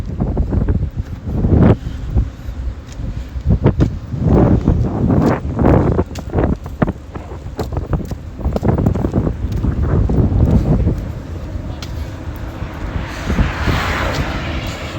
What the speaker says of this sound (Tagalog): Pero malamig pa rin ang hangin